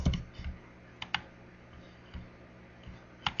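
Keys clicking on a computer keyboard, sparse and irregular, a few taps at a time with pauses between them. Quiet and close, over a low background hum.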